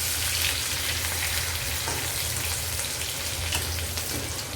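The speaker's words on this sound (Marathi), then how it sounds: "तेल तापलेलं आहे, त्याच्यामध्ये आपण टाकूया जिरं, त्याच्यानंतर अद्रक लसूणची पेस्ट" Cumin and ginger-garlic paste sizzle in hot oil for a red pumpkin bhaji, a continuous close crackling hiss with a low hum underneath and faint stirring, without speech.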